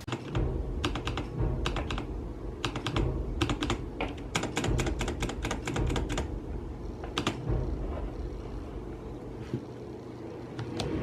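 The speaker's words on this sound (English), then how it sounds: "you're going to hear how the clicks are on each of the keyboards" Close-up clicking of a Logitech G915 wireless mechanical keyboard in quick, uneven bursts of keystrokes with short pauses between runs.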